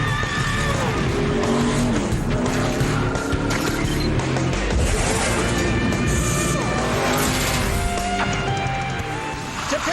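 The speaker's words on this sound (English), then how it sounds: "And as we get those cars off the racetrack" USAC/CRA sprint cars at Perris, California racing around the track, engines roaring loudly and continuously with overlapping revving, tire noise and crowd ambience, no gaps.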